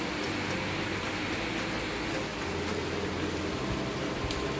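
Steady, dense hiss of rain falling continuously at Sahastradhara in Dehradun, even and unbroken throughout.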